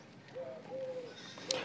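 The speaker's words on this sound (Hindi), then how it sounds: "लंबे कान की ये बकरी देखिए गाइस" A long-eared Sojat breed goat gives a few short, wavering bleats at moderate distance, with quiet outdoor farm background and no talking.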